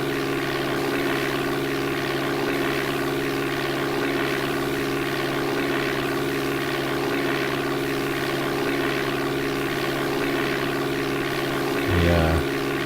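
Simulated propeller aircraft engine from the DOS game Flight Simulator 4: a steady, loud, buzzing drone that holds constant for the whole stretch, with a brief change near the end.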